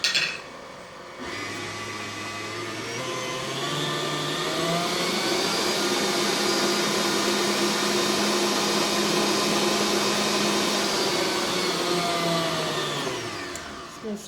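An electric mixer with a whisk attachment runs steadily through flour and sugar for a crumbly German fruit cake topping, a continuous whirring motor drone that starts abruptly, holds for about twelve seconds, then winds down.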